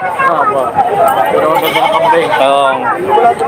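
Goats at a Batangas livestock market bleat loudly and repeatedly close by, their wavering cries overlapping amid crowd chatter and people talking.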